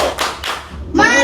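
A classroom claps out a short rhythmic pattern together, a few sharp clustered claps in quick succession over about a second.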